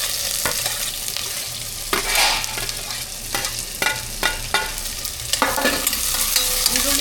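Onions frying in hot oil as the tempering for a pulao, a steady close sizzle broken by repeated scraping stirs of the spoon against the pan, with no voices.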